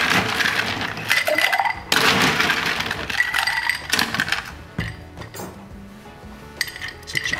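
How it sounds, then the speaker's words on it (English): A Red Snapper cocktail, a gin Bloody Mary, is stirred quickly in a glass, giving close, rapid clinking and rattling of ice and metal against glass in irregular bursts. "We will give these ingredients a fast stir."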